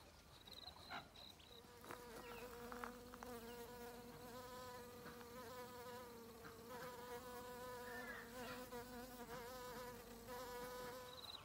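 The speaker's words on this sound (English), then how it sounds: "We've got teddy bear bees and a few other, the blue banded, sorry, and a whole heap of other native ones floating around" Native bees, including teddy bear and blue banded bees, and wasps buzzing around a bee home in a garden with tomatoes, a continuous close droning hum with shifting pitches as insects fly near and away.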